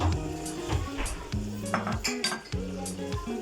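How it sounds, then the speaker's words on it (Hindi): Chicken going into a cooking pan while making chicken shashlik, heard as close, repeated clinks and scrapes of metal utensils against the pan in an irregular rhythm, with no talking. "अब हम इसमें चिकन भी डाल देंगे।"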